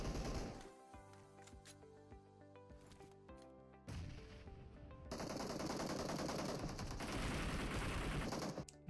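Rapid gunfire from a DBS double-barrel shotgun in PUBG Mobile on the Erangel map, sharp shots over a continuous backdrop of game music and effects, growing denser and louder in the second half.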